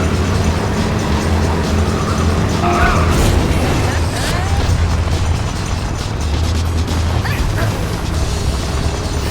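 Race cars launching from the start line in the ModNation Racers kart game, dense engine roar and revving layered with crowd noise and game effects, loud and continuous throughout.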